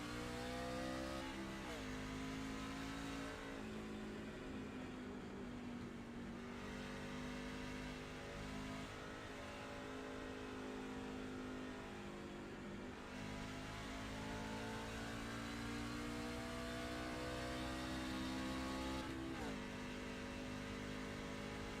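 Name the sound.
racing truck engine at Pocono in a sim racing video game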